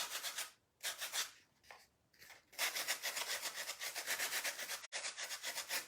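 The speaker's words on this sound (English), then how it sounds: "sanding sponge. I'm rounding, just smoothing out those corners that I just cut off." A sanding sponge rubs back and forth over freshly cut wooden corners on a homemade rolling pin made from a Dollar Tree sign. It makes close, rhythmic scratchy strokes with a few short pauses and no talking.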